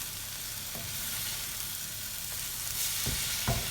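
Meat browns in a frying pan on the hob while cooking moussaka, giving a steady close sizzle and crackle throughout with a few sharper spits and pops near the end.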